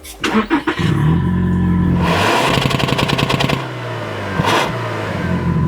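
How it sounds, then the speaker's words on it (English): A Toyota Prado's 2.4-litre four-cylinder turbo engine revs hard and loud, rising and holding in a steady roar with a rattly edge, easing off briefly and then climbing again, up close with no talking. "I think that's pretty loud for a 4-cylinder turbo."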